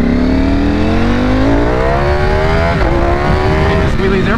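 A 2021 Ducati Panigale V4 SP with flashed ECU and quickshifter accelerating hard, engine pitch climbing steadily then dropping sharply at quick upshifts, loud and close.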